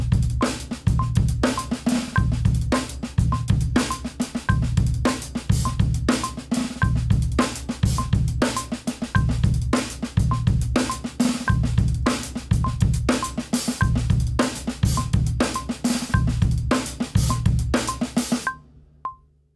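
A steady drum kit groove with kick, snare and repeated cymbal hits, the hi-hat opening on the and of beat 4, played close and loud without any voices.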